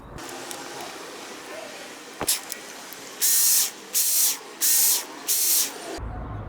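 A Ken Onion Work Sharp powered knife sharpener grinds a blade on its finer grit belt in four loud hissing passes of about half a second each, following a quieter whir of the running machine.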